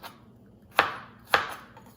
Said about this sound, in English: Then I'm going to go ahead and slice up the rest of this half onion